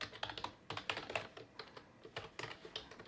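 Code being typed on a computer keyboard: quick, close, fairly soft keystrokes in an irregular patter with brief pauses, and no talking.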